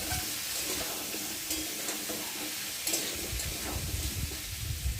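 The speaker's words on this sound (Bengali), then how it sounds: "এখন আমি আলুগুলো দিয়ে ভালো করে পেঁয়াজের সাথে কষিয়ে নেব" Potatoes and onions sauté in a hot pan, giving a steady close sizzle with scraping stir strokes throughout and no voices.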